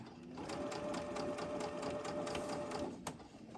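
A sewing machine runs steadily stitching a quilt seam at a shortened stitch length of about 1.8, a continuous mechanical whir with a steady hum and rapid needle ticks, fairly close, slowing and stopping near the end with no talk.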